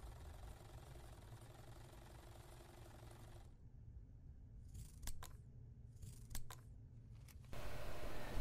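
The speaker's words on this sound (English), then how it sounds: "With pinking shears, we'll cut a triangle away from one of the edges" Pinking shears cut through fabric in a few crisp, distinct snips close by, over a steady low hum that drops away and later returns, with no voices.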